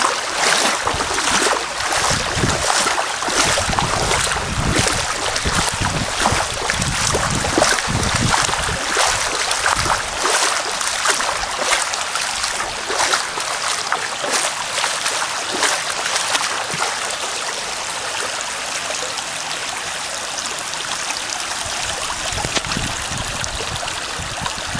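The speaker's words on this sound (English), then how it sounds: "And even just in this depth of water, the current is really strong." The flooded Murray River at Loxton, South Australia, rushes past in a strong current, a loud, continuous broadband roar of flowing water that stays close and steady throughout with no voices.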